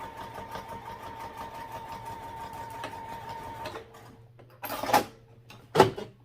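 A sewing machine stitches a seam on fabric in a fast, even mechanical whir that runs for several seconds and then stops, followed by a few sharp clicks and brief bursts of handling noise.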